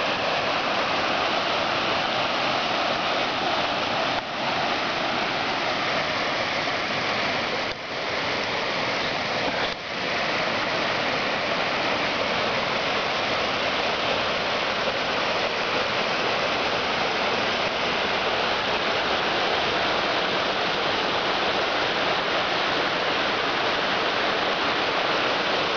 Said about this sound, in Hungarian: Tömpölög a víz.